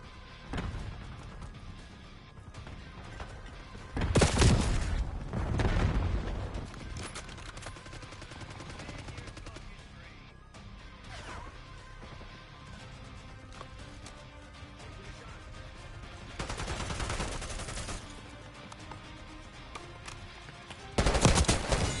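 Video game gunfire during a sniper fight, with several sharp loud shots standing out over a continuous busy game soundscape and quieter rattling fire.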